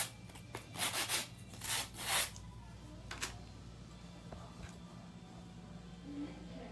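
A fresh 100 grit nail file is scored with quick rasping strokes, about four or five short scrapes near the start, fairly faint and close, followed by a quiet room.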